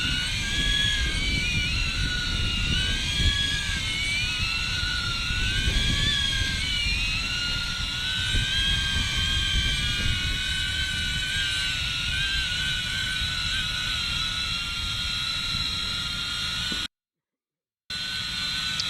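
A DJI Avata FPV drone in flight gives off a continuous high-pitched propeller whine with shifting pitch, steady and fairly close throughout, with no talk.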